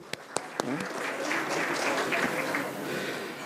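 Steady applause at a foundation day gathering, a few distinct claps at first building into a dense, moderately loud round of clapping that holds for a few seconds.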